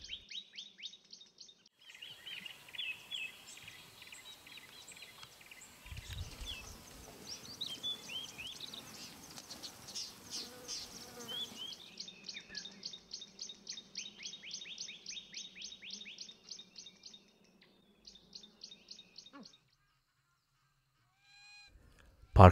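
Birds call across the Akagera wetlands among grassland, acacia and papyrus swamp: bursts of rapid, repeated chirping alternate with honking, goose-like calls, moderately near and loud, then fade to quiet at the end.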